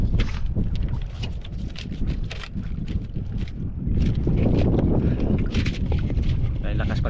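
Strong wind buffeting a microphone outdoors, loud rumbling gusts that swell and ease, with someone talking over the roar and a louder surge in the second half.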